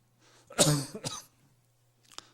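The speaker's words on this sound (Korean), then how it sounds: "제가 기침을 하네" A preacher coughs up close during a sermon, a harsh burst followed by a second shorter cough, then a faint throat-clearing sound after a pause, over quiet hum.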